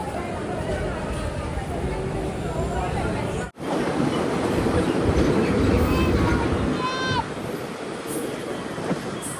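A passenger train arriving at Kozhikode rumbles along the rails with a continuous broad roar and faint squeals, briefly cut by a dropout near the middle, with speech around it.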